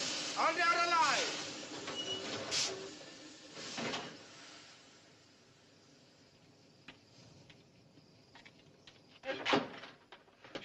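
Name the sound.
train window shutters being pulled up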